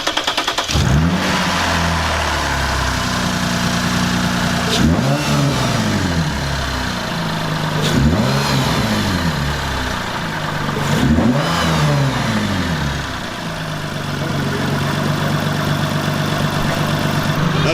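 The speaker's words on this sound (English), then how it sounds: "we're gonna see how this thing sounds with the new intake" A Lexus IS350 engine with a new aftermarket air intake revs up sharply three times in succession, each burst rising and falling back to a rumbling idle, loud and close.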